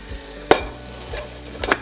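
Onions cooking in bacon grease in a pan sizzle softly under two or three sharp clacks of a utensil against the pan, close and fairly loud.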